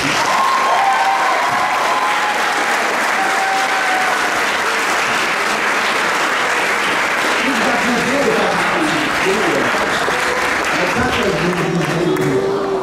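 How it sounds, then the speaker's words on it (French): A large graduation ceremony audience applauds the graduates' parents in a full, even round of clapping with faint cheering and voices beneath, holding steady the whole time. "On peut les applaudir aujourd'hui."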